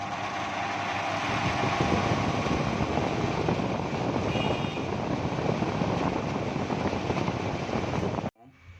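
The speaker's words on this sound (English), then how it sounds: "Mixer grinder create the noise pollution." A mixer grinder runs loud and steady for about eight seconds, a dense continuous whirring roar that cuts off abruptly near the end.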